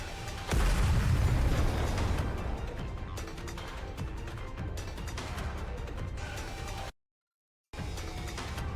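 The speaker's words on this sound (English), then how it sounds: "The missiles have no homing ability. It's just firing wildly!" Missile explosions in the Stellar Blade video game boom out in a loud, dense burst, then a rumbling barrage with scattered blasts that continues, cuts out briefly, and resumes.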